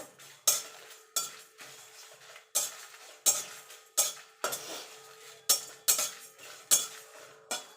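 Whole fennel seeds, cumin seeds and cinnamon dry-roasting in a pan, heard as a series of sharp metallic scrapes and clinks of a spoon stirring at a steady rhythm, close and clear with no talking.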